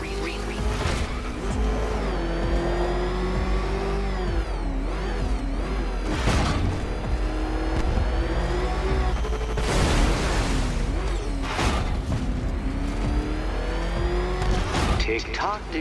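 Batmobile engine in Batman: Arkham Knight revving loudly and continuously, with tire squeals and skids as it tears along at speed, while a voice speaks over the roar throughout.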